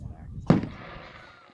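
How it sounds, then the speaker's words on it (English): A firework shell at a pyro guild show bursts once, close and loud, in a single sharp boom that fades into a faint lingering crackle; a popcorn effect with a white strobe petal, crackle pistil and rising tail. "popcorn with inner petal of white strobe and crackle pistol with a rising tail"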